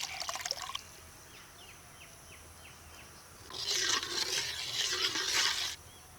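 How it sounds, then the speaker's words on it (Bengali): Water poured into a mustard, cashew and green chilli paste for a hilsa curry, a faint trickle at the start followed by a louder, steady splashing pour for a couple of seconds, with no talking. "এর ভিতরে একটু জল দিয়ে দিচ্ছি"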